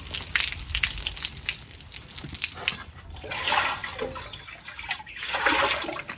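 Cooking water gushes off a large pot of beans for restaurant-style ash reshteh made for fifty, a loud, splashing pour that rises and falls in waves for several seconds.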